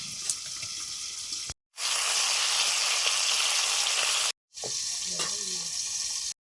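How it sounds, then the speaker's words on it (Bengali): Tangra fish frying in mustard oil, a steady loud sizzling hiss that cuts out briefly twice, with faint clinks and a short low voice near the end. "ট্যাংরা মাছগুলো ভেজে নিচ্ছি সর্ষের তেল দিলাম"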